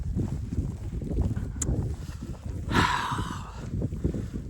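Steady blustery wind roars against the microphone while someone walks straight into it through hard-falling snow in a snowstorm, a low rumbling rush that swells briefly midway.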